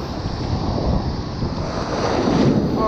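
Surf crashing at a beach while wading chest-deep during surf fishing, a continuous broadband wash of breaking waves mixed with wind buffeting the microphone, steady and loud throughout.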